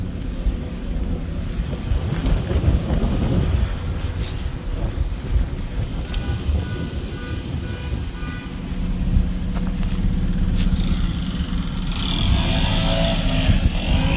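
A car engine with a suspected blown head gasket runs steadily, a loud, rough, continuous rumble throughout with no talking.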